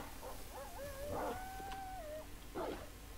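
Dogs in a horde in 7 Days to Die howl in long wavering, rising and falling tones, with a couple of short barks breaking in partway through, at moderate distance over a steady low background.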